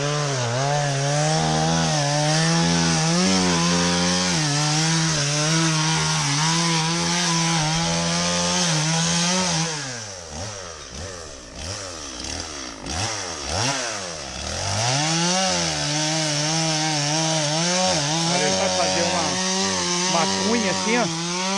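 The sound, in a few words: chainsaw running while cutting wood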